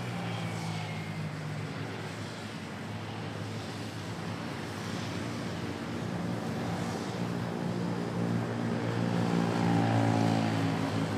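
A Boeing 737-800 airliner at Manila Airport gives a steady, loud, broadband jet roar with low engine hum, holding constant and swelling slightly toward the end, with no talk.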